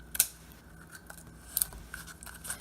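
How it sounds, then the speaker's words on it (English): Fabric scissors snip a few times, sharp crisp cuts spaced apart in a quiet room, close to the listener, trimming a Halloween candy favor craft. "I'm going to grab my fabric scissors"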